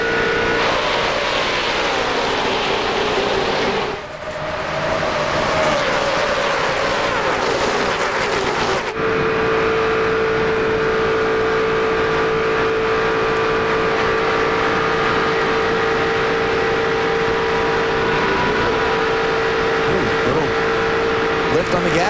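Loud, continuous engine roar of NASCAR race cars at speed in the 2001 EA Sports 500, with pitch shifting as engines rev and sustain, filling the whole stretch without pause.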